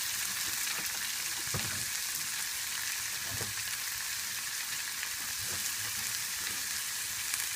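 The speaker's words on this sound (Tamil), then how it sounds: "இந்த கட் பண்ணி வச்சுருக்க தக்காளியை இதில் போட்டுருணும்" Steady sizzling of chopped tomatoes frying in a pan, with a few soft clatters of stirring over the crackle. No voices.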